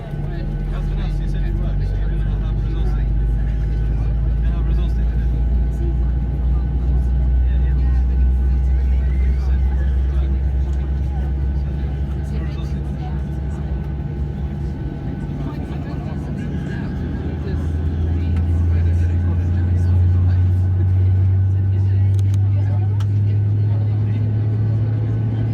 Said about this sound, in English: Okay, second engine starting up.